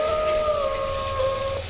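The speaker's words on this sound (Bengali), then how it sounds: "এদিকে বাইরে ঝুমঝুম করে বৃষ্টি হচ্ছে" Heavy rain falls outside in a steady, dense hiss that fills the background. A long, drawn-out howl-like tone sounds over it for about a second and a half, then fades away.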